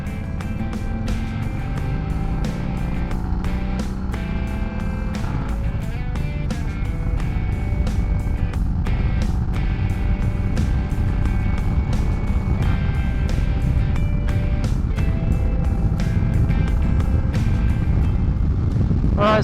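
Harley-Davidson Sport Glide motorcycle pulling onto a highway, its engine droning steadily and loud throughout with constant wind and road roar as it picks up speed.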